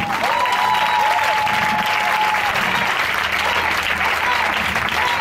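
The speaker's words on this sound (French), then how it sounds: "Est-ce que tu peux acclamer Jésus?" A church congregation at a Sunday service applauds Jesus, sustained loud clapping filling the room while a voice carries over the top throughout.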